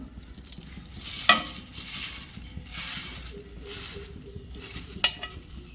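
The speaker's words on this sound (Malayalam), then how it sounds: "അതിലേക്ക് നമ്മൾ എടുത്തു വെച്ചിരിക്കുന്ന അവൽ ഇട്ട് കൊടുക്കാം." Flattened rice (aval) dry-roasts in a hot pan, giving a soft dry rustling sizzle as it is stirred, with faint scraping strokes and two sharp metallic clinks of the spoon against the pan.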